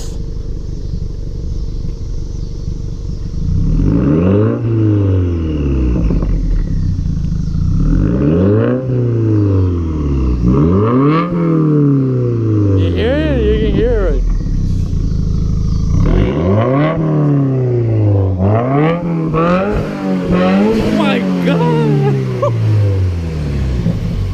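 Subaru WRX (2015 or later) fitted with a Cobb intake revving repeatedly, each loud rising-and-falling sweep of engine revs rolling one after another, close up and dominating the scene.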